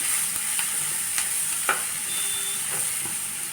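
Onions sizzle and fry in a pan with a steady hiss, broken by a few sharp crackles and a stirring scrape, the pan noise close and constant with no talking.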